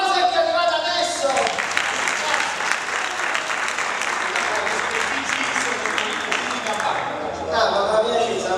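Audience applause greeting a late arrival at an Italian comedy show, a loud sustained round of clapping from a crowd filling most of the clip, fading near the end with voices over it.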